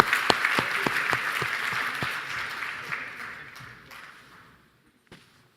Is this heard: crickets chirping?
no